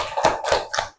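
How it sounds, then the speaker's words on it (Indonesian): A few claps for a group in traditional clothing in a classroom performance, three separate handclaps about a quarter second apart, close and clear with no talking. "Kita beri tepuk tangan untuk kelompok pakaian adat."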